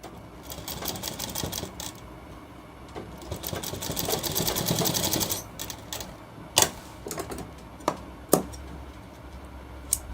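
A sewing machine stitches along both sides of a shirt collar, running in steady rattling bursts for several seconds, then stopping and giving a few sharp isolated clicks.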